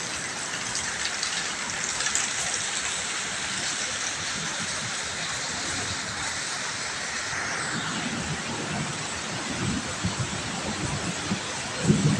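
Heavy rain pours on a used car market in Thailand in a constant rushing hiss, loud and uniform, with a few faint knocks near the end.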